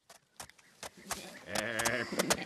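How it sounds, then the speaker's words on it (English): A sheep bleats in a short series of wavering calls, fairly close and clear, with a few brief thumps and quieter animal sounds around them and no talking. "They see a sheep."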